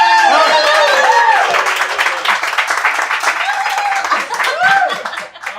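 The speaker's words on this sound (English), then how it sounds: "vote first of all for our guests on the couch with applause" Live studio audience cheering and applauding as a vote for guests on the couch, a dense continuous wash of clapping with whoops and shouted voices on top, loud and close, tapering slightly toward the end.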